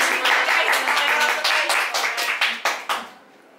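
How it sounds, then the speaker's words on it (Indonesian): A small audience claps during an Indonesian talk show about high-achieving university students, a brief round of applause that thins into a few separate, sharp hand claps and then stops. "kasih tepuk tangan dulu"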